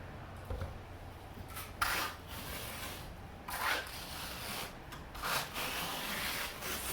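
A trowel spreads a second coat of Surecrete Microtek concrete overlay on a countertop, a quiet, continuous scraping and rubbing with soft swells in intensity.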